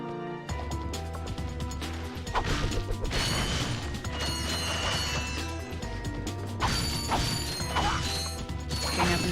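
Crates smashing and bolts being collected in Ratchet & Clank on PS2, clattering breaks and metallic clinks layered over busy game music and mechanical effects.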